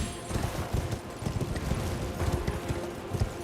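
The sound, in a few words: horse hooves clip-clopping, from a video game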